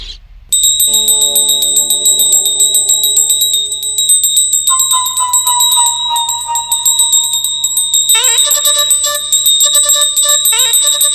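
Bells ring nonstop in a home during a morning prayer, bright and loud, shifting pitch and pattern in several phases, with no voices over them.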